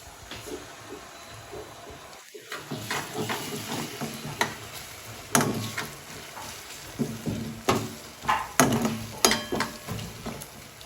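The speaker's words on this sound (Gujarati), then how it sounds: "હવે આ બધા મસાલા જે મિક્સ કરેલા છે હવે આમાં એડ કરી દઉં છું" Mixed spices stirred into frying paneer masala in a pan: a constant sizzle under repeated close scraping and stirring strokes that grow louder and more rhythmic toward the end.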